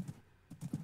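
Horse hooves clip-clopping in the Minecraft video game, a few quick close thuds in a short burst with no voices over them.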